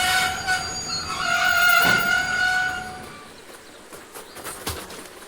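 A train runs on rails hauling wagons, with wheels squealing in high sustained tones that swell and fade, then rattling clanks and knocks from the cars, fairly close and without talk.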